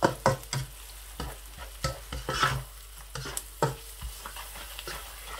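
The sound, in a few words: stirring and mixing okra curry ingredients in a pan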